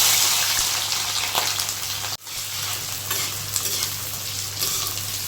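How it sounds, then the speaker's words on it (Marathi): Onions fry in oil in a pan with a steady, close sizzle and some stirring scrapes, briefly cut near the middle before the crackle resumes. No one speaks. "कांदा फ्राय होतो आहे"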